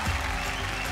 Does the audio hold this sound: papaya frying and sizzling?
no